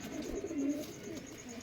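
Top-quality black pigeons coo softly in a home loft, a low, throaty murmur repeating gently in the background.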